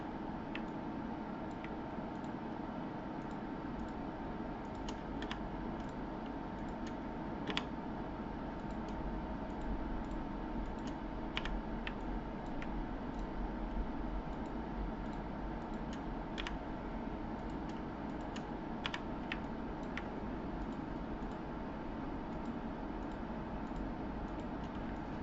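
Computer keyboard keys tapped now and then during modelling work in Maya, sparse light clicks scattered over a steady low hum, with no voices.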